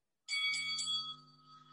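A boxing ring bell strikes for round one of the Ali versus Foreman fight, giving a few quick metallic dings that blur into one ringing tone and then fade slowly.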